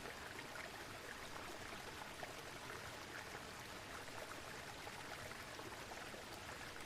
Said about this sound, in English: surrounded by the beauty and power of the waterfall